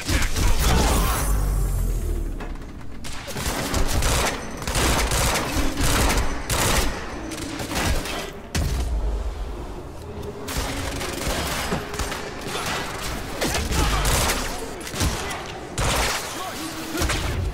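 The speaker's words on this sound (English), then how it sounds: "Burst fire pistol." Burst-fire pistol shooting in Quantum Break, repeated sharp volleys of gunshots in quick clusters alongside mechanical clatter and impacts, loud and close throughout, with occasional voices in the mix.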